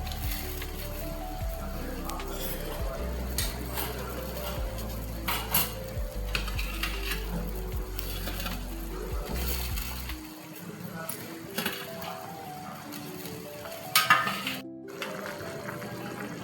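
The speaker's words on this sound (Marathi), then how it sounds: "आता याला उकळी आली आहे." Vegetable manchurian balls go into boiling sauce in a pan and are stirred, with clinks and scrapes of a utensil against the pot over a low bubbling hiss as someone talks.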